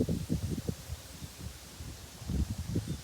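Strong wind gusting across an open rice field, buffeting the microphone in low rumbling bursts with a steady airy rush underneath, near and fairly loud.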